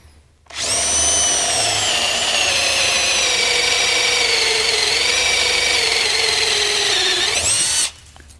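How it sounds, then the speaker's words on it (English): A cordless drill with a 1 3/8 inch Forstner bit bores into hard maple, a loud sustained high-pitched whine that starts abruptly, holds steady for about seven seconds with slight pitch dips under load, then stops sharply. "chuck this 1 3/8 bit into a cordless drill"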